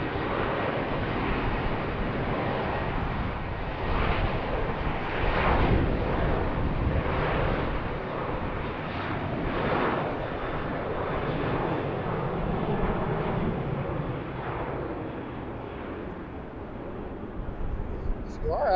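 A steady, broad roar of jet aircraft noise comes from airplanes arriving and departing on the runways at BWI airport near Baltimore. It swells and fades gradually over the span, and a voice speaks faintly beneath it.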